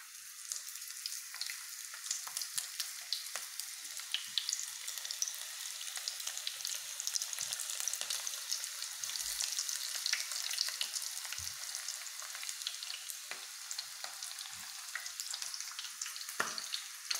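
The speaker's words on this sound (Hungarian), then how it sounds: "Na és már sülnek is a hagymák" Onion rings frying in hot oil give off a steady, dense sizzle with fine crackling pops scattered throughout, close and continuous with no talking.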